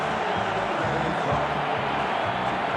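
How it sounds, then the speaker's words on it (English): A big stadium crowd roars steadily as Adelaide run onto the field for an AFL match against Port Adelaide, making a dense, continuous wash of cheering with no clear breaks. "Adelaide head onto the field as the crowd begins to roar."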